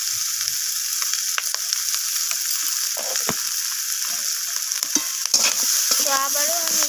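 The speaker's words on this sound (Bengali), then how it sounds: "তো আদা বাটাটা দিয়ে আমি সমস্ত কিছুর সাথে আবারও কষিয়ে নিচ্ছি।" Cauliflower stems and spinach stir-fried with ginger paste in a pan, a constant bright sizzle under irregular scraping spatula strokes, close and steady.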